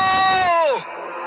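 A loud, sustained scream that drops sharply in pitch at the end before cutting off, close and alone.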